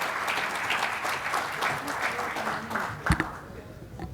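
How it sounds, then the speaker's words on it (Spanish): An audience at a conference applauds to welcome Carlos Martínez, steady, full applause filling the room throughout, with a sharp knock near the end. "demos la bienvenida y un fuerte aplauso al maestro Carlos Martínez."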